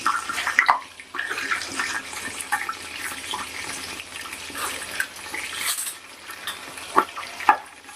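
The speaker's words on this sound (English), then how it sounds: "Now we stir them in the oil." Crushed cardamom and whole spices stirred in hot oil for veg pulao, a bubbling sizzle with scraping stirs and a few sharp clinks of the spoon against the pot, close by.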